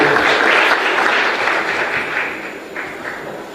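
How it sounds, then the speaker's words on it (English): A seated audience at an election evaluation report launch gives a round of applause for a county governor, loud and full at first, then gradually thinning and fading toward the close. "Let's give her a hand of applause."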